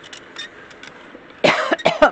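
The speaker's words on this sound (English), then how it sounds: "Pardon my coughing." Several dry coughs from a single person, close and fairly loud, come in a short burst near the end after a quieter stretch.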